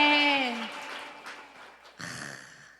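A church congregation claps during a Sunday morning worship service in a brief burst of applause that fades quickly. A voice calls out at the start, and a second swell of sound rises near the end.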